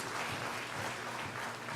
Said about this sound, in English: I want you to give yourself a round of applause for being here.